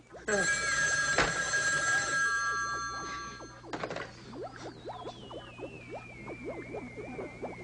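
An old-fashioned telephone bell rings loudly for about two seconds in a comic horror show, then cuts off and gives way to quieter thumps and scattered sounds.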